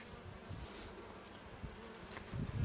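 Honey bees buzzing around an open beehive during a July inspection, a continuous soft hum close by, swelling slightly near the end.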